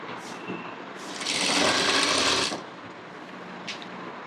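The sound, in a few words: sewing machine stitching a blouse side seam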